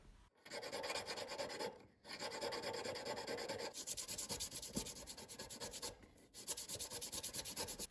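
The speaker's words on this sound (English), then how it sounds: "I am filing the sides to desired width and then clean up the inside." Hand file rasping back and forth along the sides of a white gold ring shank, steady close scraping strokes in long runs broken by short pauses.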